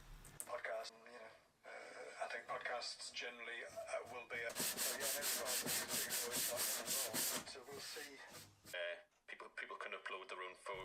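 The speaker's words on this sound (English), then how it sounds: "cleaning them up with a sharp chisel and a bit of sanding" Glued wooden plugs being sanded flush on a dartboard cabinet. Quick, rhythmic, loud rubbing strokes come in bursts, with brief pauses between passes.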